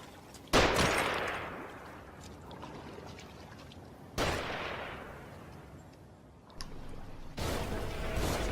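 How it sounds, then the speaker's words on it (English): Enemy gunfire in The Evil Within comes as three loud, sharp broadband blasts spaced a few seconds apart, each decaying into a rumbling tail, with a low continuous bed of game ambience between them. "They're shooting."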